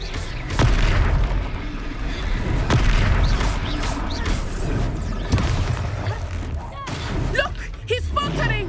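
An Expelliarmus spell strikes in Hogwarts Legacy, bringing heavy booming impacts and crashes within a loud, continuous swirl of combat effects, with voices talking throughout.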